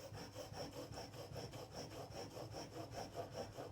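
A quarter-inch narrow chisel rubs forward and back on a sharpening stone in a honing guide under light pressure, a quiet rasping scrape repeating in a steady, even rhythm of about three strokes per second.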